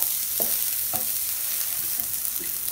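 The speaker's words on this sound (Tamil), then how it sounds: "இப்போ இதெல்லாம் சேர்த்து நல்லா வதக்கிடலாம்" Onion and capsicum for soya chunks Manchurian sauté in a hot pan with a low steady sizzle, broken by a few distinct spatula scrapes and taps against the pan, close up and without talk.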